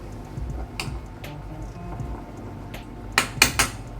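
Pork and liquid going into a baking dish give a few sharp clinks and clatters near the end, over a low, steady kitchen background.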